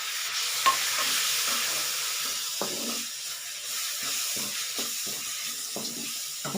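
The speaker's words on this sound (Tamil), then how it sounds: "தக்காளி கொஞ்சம் வதங்கிட்டேங்க" Tomatoes sautéing with masala in a pan for palak aloo sabzi: a soft continuous sizzle under repeated spatula stirring and scraping strokes, close and moderately loud.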